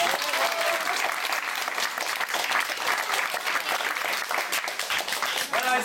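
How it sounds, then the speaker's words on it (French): A theatre audience claps loudly for an actress after a show, a thick continuous wave of applause with a few faint voices mixed in, steady from start to finish. "Je vous demande d'applaudir bien fort Lucie Scherf qui a fait les 3 quarts avec nous."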